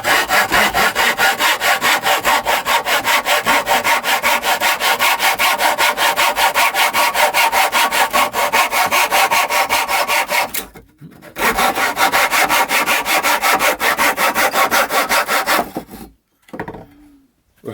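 A replica Roman hacksaw cuts a piece of cedar wood clamped with a bench holdfast, making rapid, regular rasping back-and-forth strokes, loud and close, with two brief pauses near the end.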